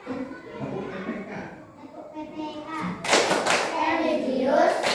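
Children in a classroom perform a rhythmic clapping chant, starting with a voice and chatter before a burst of loud, quick group claps and chanting voices in the second half.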